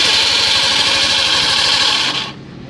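A Yamaha NMax scooter engine runs with a loud, steady grinding whir from a starter that stays engaged and fails to disengage, continuous and close, then dropping away sharply near the end.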